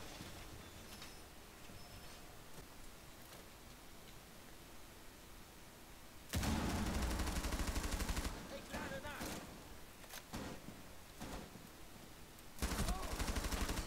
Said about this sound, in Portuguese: Eu dei um monte de tiro no cara e não matou.